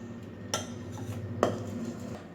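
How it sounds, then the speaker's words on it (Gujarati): A spoon stirs a besan sev dough mixture with a little oil in a bowl, giving two sharp metallic clinks against the bowl over a quiet background, no speech. "હવે આ મિશ્રણને બરાબર મિક્સ કરી લેવાનું છે"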